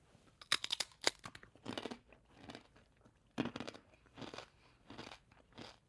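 Pimento cheese kettle-cooked potato chips crunched between teeth, giving loud crisp bites followed by a steady series of crackly chewing crunches at close range.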